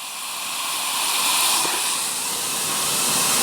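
Baking soda dropped into acidic lemon water fizzes with a steady, bright hiss that swells slightly and holds throughout, close up with no talk.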